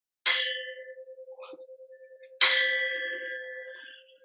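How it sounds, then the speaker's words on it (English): A bell is struck twice, each a loud, bright clang with a long humming ring that decays slowly, the second strike louder and ringing on to the end. "The bell invites me."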